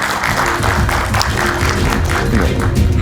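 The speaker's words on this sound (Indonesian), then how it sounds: "Kita berikan tepuk tangan sekali lagi Bung San Salvator." Studio audience applause on an Indonesian political talk show, a dense and steady wash of many hands clapping at fairly close range, continuous through the whole stretch.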